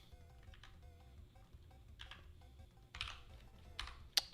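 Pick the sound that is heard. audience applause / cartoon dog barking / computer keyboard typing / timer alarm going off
computer keyboard typing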